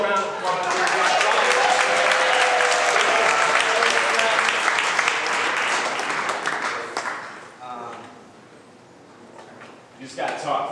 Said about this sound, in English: Can we get Gio a round of applause?